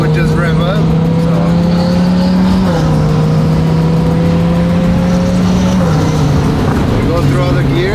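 A Performante car engine hums steadily from inside the cabin, its pitch dropping briefly at each gear change, with road noise throughout.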